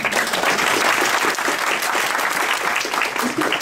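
An audience applauds after a science-outreach stage performance, a loud, sustained wash of clapping from a full room that continues without pause throughout.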